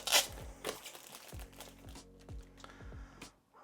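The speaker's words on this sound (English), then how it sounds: "Got my trusty scissors this time because unboxings can be a bit tricky." Scissors snipping and crinkling through the packaging of Google Pixel Buds earbuds during an unboxing, a series of close, sharp cuts and plastic rustles in an uneven rhythm.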